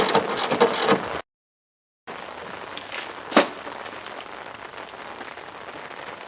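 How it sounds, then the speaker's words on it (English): Steady rain falls outdoors beside a garage during a radiator replacement on a 2002 Chrysler Town and Country, a dense even patter with a louder burst at the start, a sudden gap of silence, then continuous hiss. "Here comes the rain."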